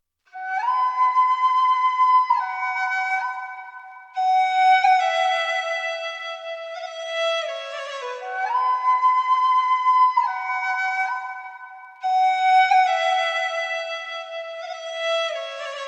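A breathy ethnic flute from a software instrument in a dark beat sample plays flowing melodic phrases, notes sliding and ornamented, in several separate passages with short pauses between them.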